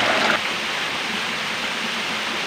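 Roaring waterfall at a busay where people bathe and fill a bucket, a steady broadband rush of falling water filling the clip, with a brief slightly louder splash at the start and no talk.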